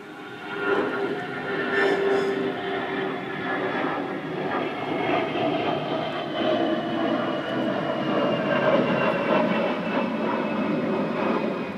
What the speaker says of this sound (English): We just had a jet go over